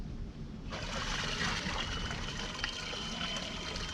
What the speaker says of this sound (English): I want people to really understand that the motor is indeed running and the sound of it.